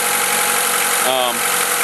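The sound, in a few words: 1991 Honda Accord engine idling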